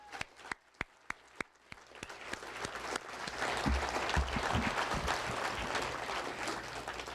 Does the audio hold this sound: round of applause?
yes